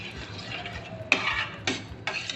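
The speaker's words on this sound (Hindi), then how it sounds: "इसको थोड़ा सा मिक्स कर लूँगी" Sauces being stirred in a cooking pot for keema macaroni: a spoon scrapes and clinks against the metal in three short bursts over a quiet background hum, close and fairly sharp.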